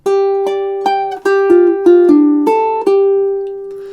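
A plucked ukulele plays a short melody, about a dozen clear notes in a steady rhythm, close and bright, with no talking.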